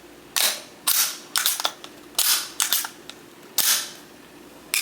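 A Glock 17 pistol fitted with an FRT V1 trigger sounds off in sharp, separate mechanical snaps, about eight of them in irregular succession, close and crisp with quiet between each.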